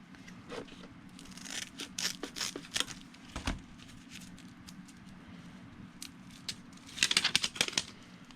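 Scissors cut material for a stopper block on a model airplane, making a series of close, crisp snips in irregular bursts with small handling rustles between them.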